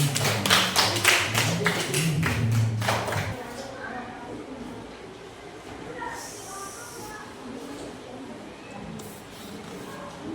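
Brief clapping from a class of students in an Indonesian Islamic education lesson, a few seconds of moderate claps at the start fading into quiet room tone with faint voices.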